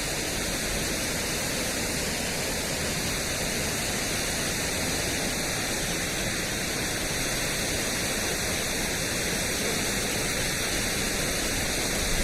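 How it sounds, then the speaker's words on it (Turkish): Steady, roaring rush of falling water from a tall waterfall in Erzurum, Turkey, loud and constant throughout with no voices or breaks. "Türkiye'nin en uzun şelalesi."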